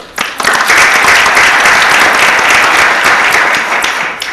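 Audience applause breaks out after introductions at a council meeting, a dense, loud sustained clapping from a full room that holds steady for several seconds before slightly easing.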